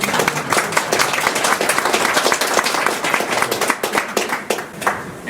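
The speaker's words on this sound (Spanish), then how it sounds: "Por favor, un aplauso para ellos." An audience applauds at an experimental archaeology conference, with dense, loud, continuous clapping that holds steady and thins slightly toward the end.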